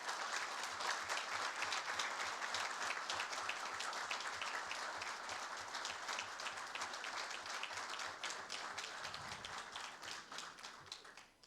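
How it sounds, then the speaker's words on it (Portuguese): An audience in an auditorium gives steady applause to doctors joining remotely during a solemn installation session, sustained crisp clapping at moderate distance that fades out at the end. "estamos aqui no auditório vendo os senhores, sintam-se e recebam os nossos aplausos"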